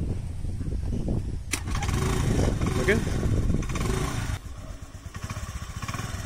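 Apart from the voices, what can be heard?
scooter petrol engine starting and idling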